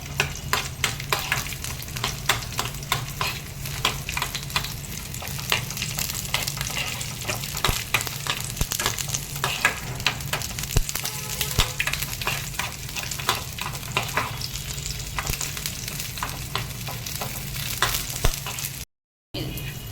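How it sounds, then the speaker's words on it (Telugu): Whole spices fry in oil while being stirred until reddish: a loud continuous sizzle punctuated by frequent rhythmic spatula scrapes against the pan, with no one speaking. "ఇలా ఎర్రగా వేగాలి."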